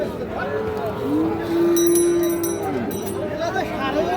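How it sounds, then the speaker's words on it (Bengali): A Sahiwal bull calf about five to six months old gives one drawn-out moo at a busy cattle market, close by and loud over a background of crowd chatter and talk. "শাহিওয়াল ষাঁড় বাছুর।"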